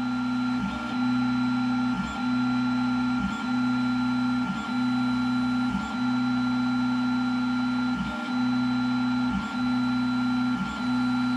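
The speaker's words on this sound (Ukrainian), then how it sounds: "головка поступово піднімається вгору з кожною рисочкою" Snapmaker 2.0 A150 laser module head moving while engraving calibration lines, a steady motor hum broken by regular clicks and short stepping bursts about every second, close and alone with no talk.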